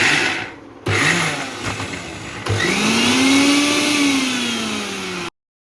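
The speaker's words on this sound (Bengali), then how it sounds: "বেটে নেবো এটা।" A mixer grinder whirs loudly as it grinds ginger, green chili, peas and chana dal into a paste, with a stop-start hum before settling into a steady, high-pitched motor whine.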